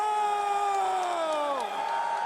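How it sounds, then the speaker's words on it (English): Fans at a Dota 2 TI14 match roaring and whooping as one dense crowd, a sustained loud wall of cheering with falling yells. "hearing all those cheers out there from their fans"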